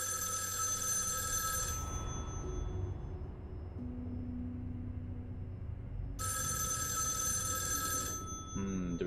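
An old-style telephone bell rings in the horror video game Erica, two loud bursts of bright trilling separated by a few seconds of low, eerie ambient drone.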